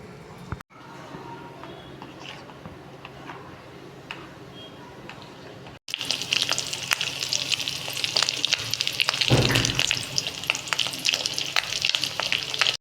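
Fish roe fritters fry in hot oil with a dense, crackling sizzle, quieter at first and then louder and close, with scattered sharp pops.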